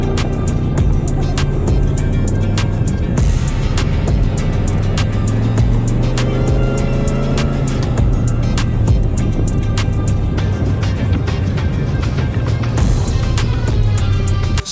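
An off-road vehicle drives across sand dunes at Sand Hollow, Utah, its engine a loud, steady drone with shifting revs and wind rush throughout, no talk.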